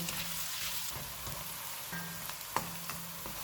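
Onion, garlic cloves and a piece of ginger frying in oil on a stove over medium-high heat, a soft steady sizzle with occasional light pops and stirring taps close by.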